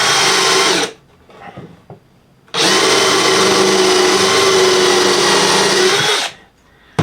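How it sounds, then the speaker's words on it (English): A power drill drives 3-inch screws down into the top of a wooden flower stand: a short loud whirring burst, a pause with small clicks, then a longer steady, close-up run of the motor. "we're going to put a few screws in the top. I'm going to use a 3-inch screw"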